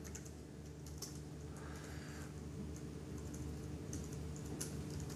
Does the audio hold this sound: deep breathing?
no